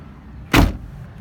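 A door on a 2006 Jeep Wrangler LJ makes a single short, solid clunk as it opens, standing out against a quiet background.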